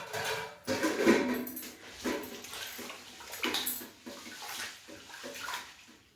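Rice being washed by hand in a vessel of water, a few rounds of rinsing before drying for a homemade idli and dosa mix; repeated near splashing and sloshing swirls in irregular bursts, with no talking.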